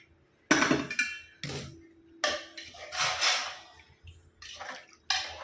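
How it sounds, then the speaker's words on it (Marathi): Water is poured into a pot of masala rice being cooked, heard as several short, close splashing bursts with quiet gaps between them. "आता ह्याच्यामध्ये मी पाणी टाकतोय."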